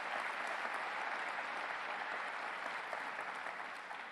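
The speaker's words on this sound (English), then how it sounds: "Let's give our judges a round of applause." An audience claps for judges at a 2018 State of the City address: steady, dense applause from a crowd, fairly distant and even, fading slightly toward the end with no talking over it.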